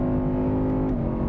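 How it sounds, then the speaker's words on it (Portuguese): A V8 race car engine revving hard under acceleration, a loud, close, steady roar with a sustained tone that drops slightly in pitch near the end, alone with no voices. "Agora começa a ganhar força, é o V8ão gritando forte."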